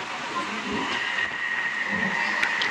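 Steady rumbling inside a moving train at night, a constant roar with a thin high whine and occasional clicks, no talking.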